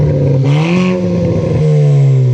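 A Kia Forte GT with a straight-piped exhaust revs loudly up close, one sharp rising rev that falls back to a raspy, droning idle.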